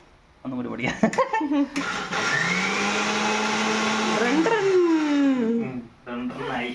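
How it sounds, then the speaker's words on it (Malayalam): A mixer grinder whirs loudly and steadily for several seconds as it grinds peeled chickpeas for a homemade protein shake, its motor pitch shifting slightly before it winds down, with brief handling sounds before and after. "ഇനി നമുക്കൊന്ന് മിക്സിക്കകത്തിട്ട് പൊടിക്കാം"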